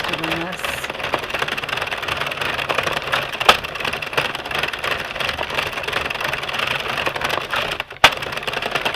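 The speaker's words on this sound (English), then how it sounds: "This is pretty much as fast as I can crank. I can't crank any faster than this." An Addi King Express knitting machine cranked by hand at top speed, a fast continuous mechanical whirring and clatter with a sharp knock near the end, close and fairly loud.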